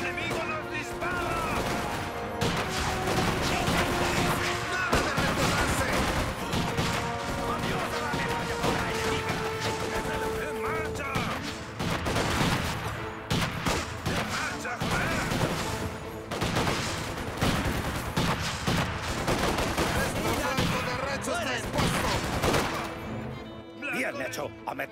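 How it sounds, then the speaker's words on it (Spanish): Enemy rifle and machine-gun fire crackles almost without pause in a World War II battle in Company of Heroes 2, with bursts and booms stacking up, while soldiers shout over the din. "¡El enemigo nos dispara!"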